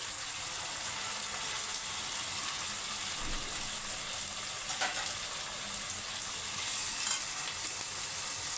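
Chopped tomatoes frying in a pan for Bhetki fish curry, a loud, steady hiss of sizzling oil with occasional stirring scrapes and no voices.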